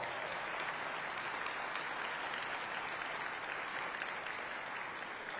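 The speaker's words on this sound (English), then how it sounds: "Give yourselves a round of applause." Steady audience applause fills a mall venue during a city address, an even wash of clapping heard from some distance at moderate level, continuous without pauses.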